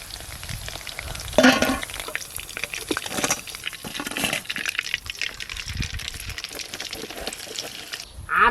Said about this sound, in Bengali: চিলি চিকেনের জন্য চিকেনগুলো ভালো করে ভাজা হয়ে গেছে, এবার তুলে নেব।